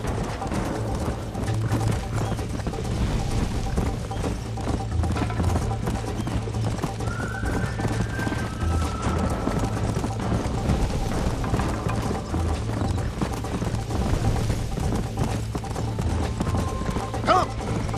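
Horse galloping in Red Dead Redemption on PS3, with steady rhythmic hoofbeats running throughout and a brief neigh partway through, accompanied by game background sound.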